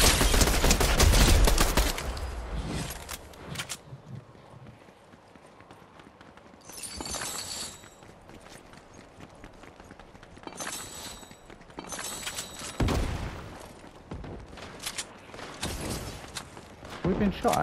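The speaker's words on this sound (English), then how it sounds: "This is the longest firefight in history." Video game gunfire during a long firefight, bursts of rapid shots in separate clusters, loud at the start then in shorter volleys, mixed with players talking over the fighting.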